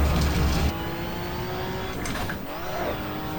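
Touring cars from the 1987 British Touring Car Championship race through Lodge Corner at Oulton Park, engines droning at steady mid distance with a thump of passing noise at the start and a rising whine near the end.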